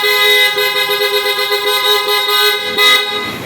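Aftermarket PIAA horn wired together with the stock horn on a Honda Click scooter, sounding one loud, steady, close honk that lasts throughout with a brief surge near the end.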